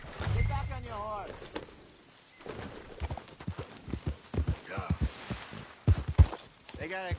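Horse hooves clip-clopping in the Red Dead Redemption 2 video game, a close, irregular run of hoof knocks mixed with game dialogue and a brief whinny-like sound early on.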